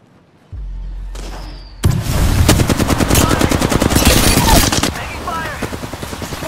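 Loud, rapid automatic gunfire rattles in sustained bursts during an Apex Legends match, preceded by a short low rumble and a rising whine, with the shots ending abruptly and a quieter tail following.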